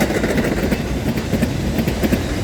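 A freight train led by an EMD slug hauling hopper cars rumbles past close by on a sunny day near the Frankston Flinders Road in Australia, a steady heavy roar with faint rhythmic wheel clatter throughout.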